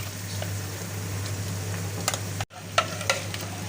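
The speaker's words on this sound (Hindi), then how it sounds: "अच्छी तरह जो है ना भूनते रहना है" Saag paste being fried in a pan gives a steady, soft sizzle with occasional scraping and clinks from a stirring utensil, and a brief dropout midway; no one talks.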